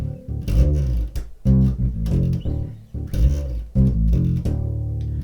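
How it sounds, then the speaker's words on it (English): A bass guitar plays a verse bass line: a busy run of punchy low notes with quick slides and syncopated attacks, played solo and up close. "So what I'm going to show you now is the bass line to verse 2."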